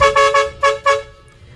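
Horn blasts from a double-cab pickup truck sound through a horn selector: several short, bright toots in a rhythmic burst, loud and close, followed by fading silence.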